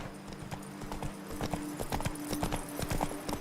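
Roach, Geralt's horse in The Witcher 3: Wild Hunt, trots with a brisk, even clip-clop of hooves at moderate distance over a low game ambience, with a faint horse snort and no talk.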